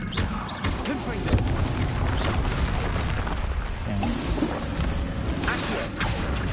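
Confringo blasting spells firing in Hogwarts Legacy, a fantasy video game, producing repeated booming, crashing explosions over a loud, dense mix of game effects and music.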